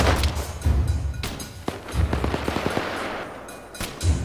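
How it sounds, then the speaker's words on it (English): Machine-gun fire in Arma 3 comes as sharp bursts and single shots with a few deep thumps, moderately close and loud. "I'm firing on them."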